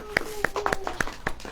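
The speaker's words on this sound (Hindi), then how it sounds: "ऐसे ताली बजती देखो, ऐसे हाथ यूं कर लेते हैं" A person clapping their hands in a church sermon setting, about seven sharp claps in an uneven rhythm, close and fairly loud, with speech-like tones between them.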